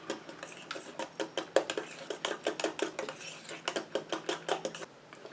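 A utensil stirs a mixture inside a container while making a fragranced product, giving a rapid, irregular run of close clinks and scrapes that keeps up steadily for several seconds, with no talking.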